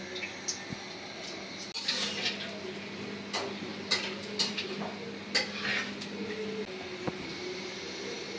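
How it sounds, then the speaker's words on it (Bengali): Cinnamon, cardamom, cloves and black peppercorns stirred in hot oil in a home kitchen pan: soft sizzling under repeated scraping clicks and clinks of a utensil against the pan, irregular and close. "এটা ঘ্রাণ ছড়ানো পর্যন্ত একটু নেড়ে দিই। তেলের সাথে একটু ভাজে দিলে ঘ্রাণটা বের হবে।"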